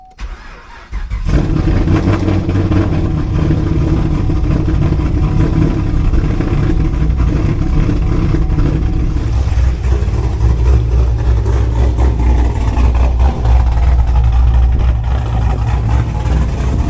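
A Chevrolet Camaro engine, just repaired for a misfire, cranks briefly, fires and settles into a loud, steady idle that runs close to the microphone without interruption.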